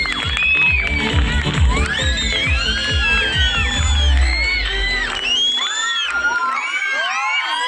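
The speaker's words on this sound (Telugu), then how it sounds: "అందరూ కూడా గట్టిగా చప్పట్లు కొడదాం." At a semi-Christmas celebration at Infant Jesus Church in Adoni, a lively crowd cheers for the sister with whoops, shouting children and bright whistling tones over a busy, loud backdrop that thins out toward the end.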